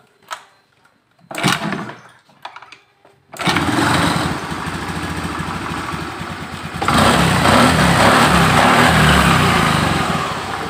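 A fuel-injected Honda Beat FI scooter that burns too much fuel, fouls its spark plug black and keeps stalling is kick-started. A few sharp kick thumps lead into a steady, buzzy idle, which then rises to a louder, higher rev.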